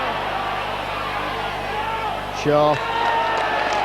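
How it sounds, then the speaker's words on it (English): A rugby league crowd at a Wigan versus Leeds match roars as a steady distant wash of cheering under a commentator's voice, with a brief tonal call cutting through midway. "as you'll hear the cheers of the Wigan crowd"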